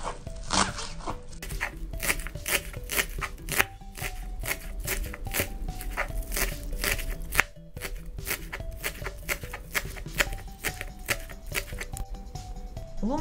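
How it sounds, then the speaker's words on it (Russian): A knife slices bread into thin pieces on a cutting board, a close, steady, rapid series of crisp rhythmic taps with only a brief pause midway. "перерезаю его пополам и нарезаю тоненькими такими маленькими кусочками"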